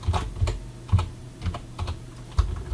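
Rapid typing on a computer keyboard during a Czech gaming session, clattering keystrokes arriving in short uneven bursts, close and fairly quiet, with no voices.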